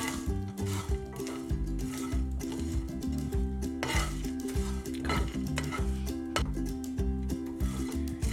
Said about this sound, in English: now you have to dry roast these ingredients at low to medium flame